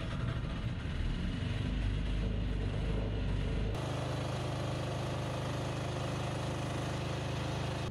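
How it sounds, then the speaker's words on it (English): A generator aboard a vintage yacht hums in an engine room, the sound shifting abruptly partway through to a steadier, lower drone that continues to the end. "let's start the generator and let's get started"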